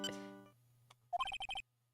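A mobile phone ringtone plays a short, bright run of quick repeated electronic tones, faint and close. It follows a brief musical note and then stops.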